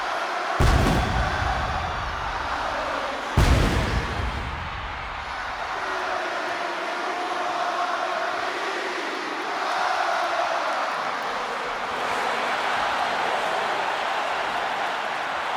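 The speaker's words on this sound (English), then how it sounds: "this capacity crowd just exploded" A capacity arena crowd in the WWE 2K26 wrestling video game roars as a dense, continuous wash of noise, punctuated early by two sharp, heavy booms before settling into a sustained loud din.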